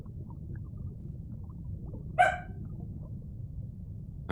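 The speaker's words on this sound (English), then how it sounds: "We have a dog guest here this week." A single short dog bark sounds indoors at moderate distance, standing out once against a quiet background hum.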